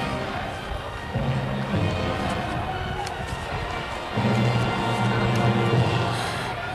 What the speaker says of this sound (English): Good crowd gathered at the Auto Quest Stadium this afternoon.